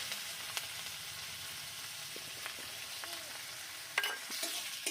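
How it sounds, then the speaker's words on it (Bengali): Chopped onion frying in oil with whole cumin, a soft continuous sizzle with scattered light crackles and a louder scrape of stirring near the end, fairly faint and without talk. "দিয়ে দিয়েছি পেঁয়াজ কুচি পেঁয়াজটা আমি একটু লাল লাল করে ভেজে নেবো"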